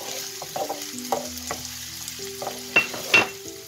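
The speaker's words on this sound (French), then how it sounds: "j'ai déversé mes 2 petits oignons dans une huile chaude, dans une poêle. On fait revenir" Two small onions sizzle in hot oil in a frying pan. A steady crackle runs throughout, broken by a few clinks and scrapes of a utensil stirring near the mic.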